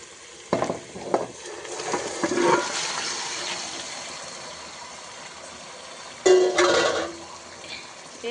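Meat, washed with lemon, being stirred in a hot pan for a Telangana festival dish: scraping and sizzling come in short bursts, with a louder rush of stirring near the end and no talking.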